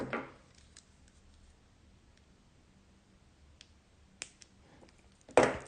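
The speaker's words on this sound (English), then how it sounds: "And then you're going to trim your wire." Jewelry wire for a beaded star being trimmed: a couple of small sharp snips of cutters, close and crisp, separated by quiet handling with a few faint clicks.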